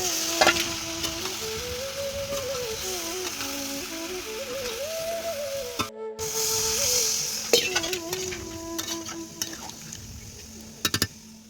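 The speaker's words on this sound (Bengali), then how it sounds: "এখন পুঁই শাকটা বসিয়ে দিচ্ছি আর দেখো কত ডাঁটা দিয়েছি কড়াই আর ধরছে না" Malabar spinach stems fry and sizzle in a large, overfilled wok, a steady hiss with occasional stirring clatter, while a person talks over it and a voice is heard.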